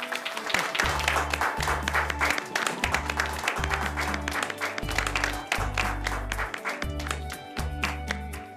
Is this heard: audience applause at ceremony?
yes